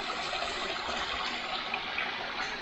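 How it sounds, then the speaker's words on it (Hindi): Water flowing steadily beneath a bamboo bridge in Pai, Thailand, a constant broadband rushing wash that stays even and fairly close throughout, with no talk over it. "ये पानी की आवाज़ आ रही है पूरे टाइम आपको, और वही पानी बह के जा रहा है नीचे से इधर।"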